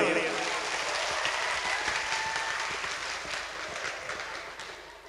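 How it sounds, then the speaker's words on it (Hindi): A crowd in a hall at a Punjabi comedy show breaks into loud, sustained applause that fills the room, gradually tapering toward the end, with some voices mixed in. "14 अगस्त के नाल दियां जोरदार तालियां"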